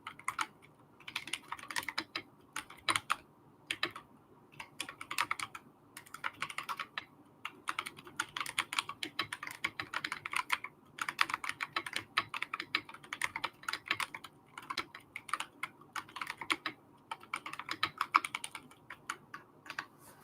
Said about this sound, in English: I'm just going to type that in right here.